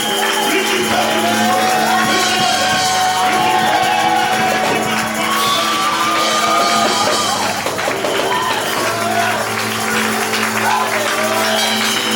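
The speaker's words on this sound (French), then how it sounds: "Et ce matin, vous êtes en train d'applaudir." A church congregation claps and cheers during a morning worship service, a loud, sustained wash of applause with shouts and whoops rising throughout, dense and close with no pause.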